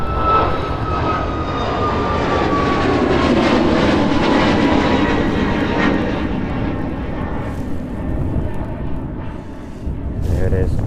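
A fixed-wing airliner taking off at East Midlands Airport, its engines roaring loud and sustained before slowly fading, with a voice talking over it.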